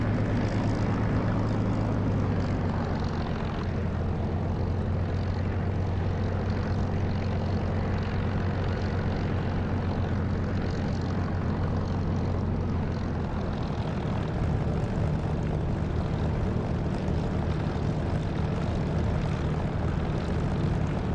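A Spitfire LF Mk IX piston engine taxiing in a flight simulator, a loud, steady propeller drone with a low throbbing hum holding constant throughout, close and continuous with no voices.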